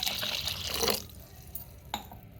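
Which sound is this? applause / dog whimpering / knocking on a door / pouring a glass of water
pouring a glass of water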